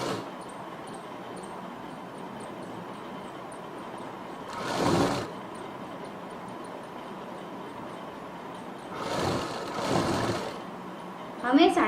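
A sewing machine hums steadily while hemming a twice-folded satin fabric edge for a Barbie frock, close and continuous, with a few louder bursts of rustling or handling noise breaking in.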